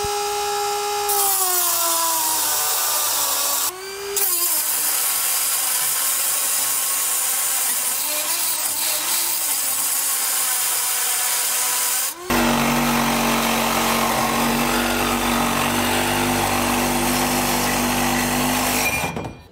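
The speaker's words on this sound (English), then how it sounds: "So I went ahead and switched over to a Sawzall." A Sawzall reciprocating saw cuts a metal bracket flap on a 2021 Ram 1500 during a base plate installation. A loud, close motor buzz runs in long bursts with brief pauses and pitch dips as the blade bites, and no one talks.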